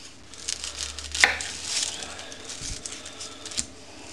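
A knife tops and tails a medium onion on a board, giving a sharp cut near 1.2 seconds, a second sharper one near 3.6 seconds, and light scraping and tapping between them, close and fairly quiet.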